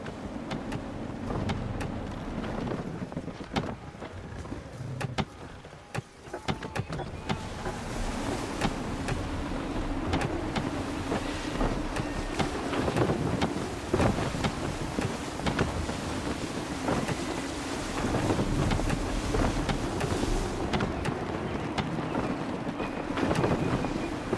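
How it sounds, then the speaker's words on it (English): Gusty wind while sailing a ship in Assassin's Creed III, a steady broad rushing roar with low rumble and surging gusts across the whole stretch. "Gusty winds can be difficult to manage."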